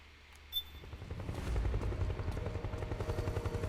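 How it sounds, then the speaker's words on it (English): Helicopter in the video game Metal Gear Solid 4 swelling from quiet to a loud, steady rotor thump with rapid rhythmic pulsing, accompanied by faint in-game ambience. "This area is a bit tougher because of the helicopter."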